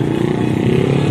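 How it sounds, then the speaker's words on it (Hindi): A motorbike passes near a lakeside dam on a busy New Year's day outing, its engine a loud steady drone for the whole short stretch, close by. "बाइक आ रहा है अभी"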